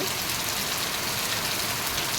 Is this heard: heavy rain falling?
yes